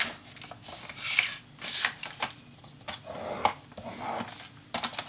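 Paper for a Graphic 45 Imagine 8x10 mini album being creased and folded by hand, with repeated crisp rustling and soft crackling bursts close up, no talking.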